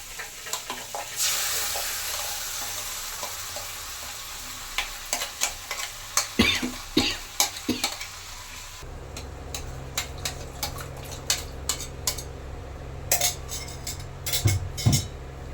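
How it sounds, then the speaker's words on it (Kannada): Ground masala paste sizzles in a hot pan for paneer butter masala, a steady fry under repeated spoon scrapes and clinks against the pan. "ಈಗ ರುಬ್ಕೊಂಡಿರೋಂಥ ಮಸಾಲೆನ ನೀಟಾಗಿ ಹಾಕ್ಕೊಳ್ಳೋಣ."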